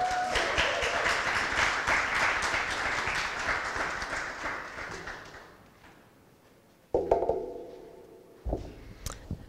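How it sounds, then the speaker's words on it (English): Audience applause for a dean at a university talk series, a dense burst of clapping that fades out over about six seconds, followed by a few separate knocks and thuds. "please give a round of applause to Dean Kim McFarlane"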